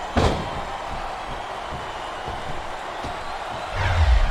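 A heavy body slam lands in a televised wrestling match at WWE Armageddon 2006, a sharp thud near the start followed by a loud, steady arena crowd roaring and chanting throughout, swelling toward the end.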